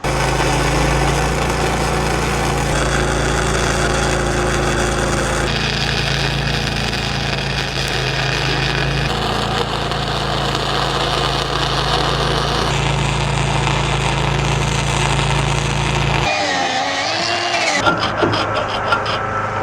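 A 5K drop leg jack is welded onto a dump trailer, a continuous loud crackling buzz of the welding arc running for most of the time before cutting off near the end.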